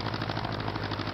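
A light aircraft engine holds a steady drone during a 1500 RPM run-up, loud and close with no voices over it.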